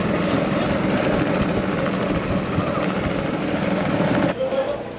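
A helicopter flying in at an outdoor farm show, its rotor and engine drone steady and fairly loud throughout, with crowd voices and talk mixed underneath.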